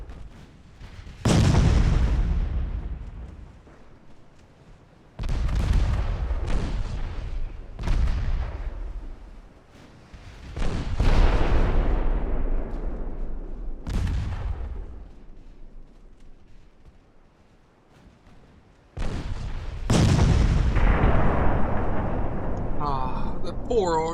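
Naval guns from warships fire in the game Ultimate Admiral Dreadnoughts. Several loud, heavy booms come at irregular intervals, and each one rolls off into a long, rumbling decay.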